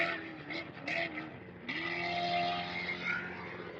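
Concrete Motorsports off-road race truck, driven by Harley or Kevin Thompson at the Baja 500, roars past close by with a rising engine note that drops and steadies as it passes.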